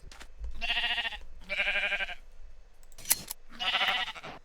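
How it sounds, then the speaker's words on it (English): Three bleating sheep cries, close and clear, with a short sharp click between the second and third, as a sheep is sheared in Minecraft. "Shearing a sheep?"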